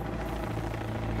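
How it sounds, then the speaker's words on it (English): A search and rescue helicopter over backcountry mountains, its rotor beating in a steady rapid thump with loud continuous engine roar, close and filling the short stretch. "The helicopter returns."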